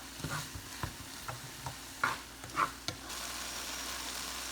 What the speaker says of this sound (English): Now we are going to mix all together and cook about 10 minutes until you can get the fine paste of the tomato.